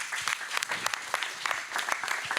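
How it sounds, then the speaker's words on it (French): Audience applause at a conference on hip-hop history and fashion in Roubaix, a moderate, somewhat uneven patter of clapping with individual claps standing out, heard alone. "Sous vos applaudissements, s'il vous plaît."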